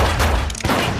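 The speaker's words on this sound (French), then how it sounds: "Quand Rebecca entend des coups de feu au milieu de la nuit" Dense, continuous rumbling crackle of gunfire heard in the middle of the night, loud and close with a brief dip partway through, no voices.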